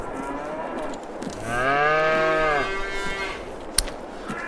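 A cow on a farm gives one long, loud, drawn-out moo close by, preceded and followed by quiet background noise and a single sharp knock.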